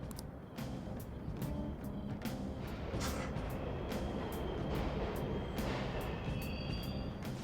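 Trains rumbling along a platform in the Persona 5 Royal video game, a steady loud mechanical roar with repeated clanks and brief high squeals throughout, alone without talk.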